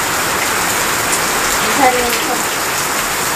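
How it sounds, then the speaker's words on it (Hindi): Heavy rain pours steadily on surfaces outdoors around a home kitchen garden, a dense even hiss throughout, with a brief spoken word briefly over it. "बारिश तो बहुत तेजी से हो रहा है, शायद आवाज़ भी नहीं सुनाई देता होगा।"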